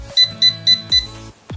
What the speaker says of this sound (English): It beeps when the temperature is good